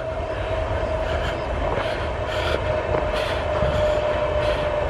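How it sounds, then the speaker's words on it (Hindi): A distant train rumbles on steadily at night near a reputedly haunted spot in Haryana, a low continuous roar with faint rhythmic swells and a steady tone above it, no voices. "ये ट्रेन तो चल रही है काफ़ी दूर"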